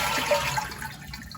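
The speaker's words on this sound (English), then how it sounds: "First we're going to flush the toilet to get rid of the majority of the water." Toilet flushing while its tank drains during a fill valve replacement, a close, loud rush of water that slowly tapers toward a quieter trickle.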